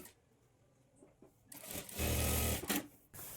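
Sewing machine running in short bursts while stitching a plain blouse hem, starting after a quiet pause, then a sustained, loud, close whir that stops and briefly restarts.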